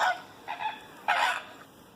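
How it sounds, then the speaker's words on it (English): A flamingo gives three honking, goose-like calls, each harsh and nasal, spaced unevenly over two seconds, with the last one loudest, clear and alone. "Flamingo."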